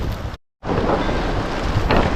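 Monsoon rain pours steadily during a trek to Ratangad fort near Bhandardara, a dense wind-buffeted hiss that drops out for a split second before resuming at full strength.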